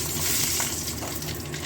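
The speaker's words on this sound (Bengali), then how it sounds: "কড়াইয়ে তেল দিয়ে দিয়েছি, দেবো একটা কাঁচা লঙ্কা ফেলে, আর দেবো একটু কালো জিরা ফোড়ন।" Green chili and nigella seeds frying in hot oil in a wok, a close, steady crackling sizzle with no pauses.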